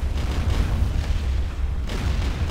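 Heavy ship cannons in the online game ArcheAge boom in a dense, continuous barrage of low rumbling blasts during a naval battle, loud and close with no pause between shots.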